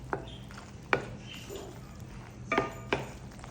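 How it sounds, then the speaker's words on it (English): Metal spoon stirring macaroni and cheese in a pot, giving a few sharp clinks and scrapes against the pot scattered through a quiet stretch, close and fairly soft. "We're gonna stir this, make sure all of that pasta gets nice and coated."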